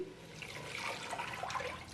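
Water pours into a cooking pot, about a litre added to a tamarind porridge, a soft continuous splashing gush that stays faint and steady for two seconds with no talk.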